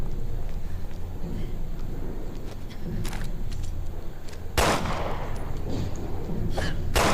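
Gunshots in the video game Resident Evil Revelations 2, a few sharp reports scattered over a low game ambience, one louder blast near the middle.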